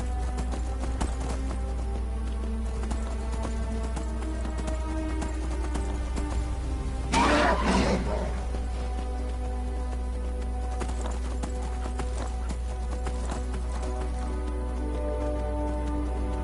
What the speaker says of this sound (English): I'm on horse, you no catch me.